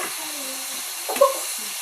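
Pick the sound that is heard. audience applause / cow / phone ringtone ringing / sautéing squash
sautéing squash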